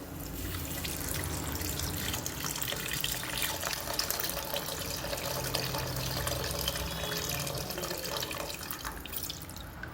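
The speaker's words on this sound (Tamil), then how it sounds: "இப்போ புளி தண்ணி ஊற்றிப்போம்" Tamarind water pours steadily into a cooking pan for fish curry with a continuous splashing, gurgling rush, close and moderately loud, no talking.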